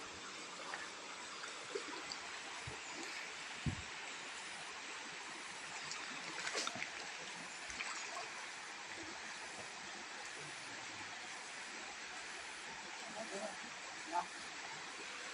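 Creek water flowing steadily over rocks into a deep pool, a continuous broad hiss and gurgle close by with a few faint knocks, no voices over it.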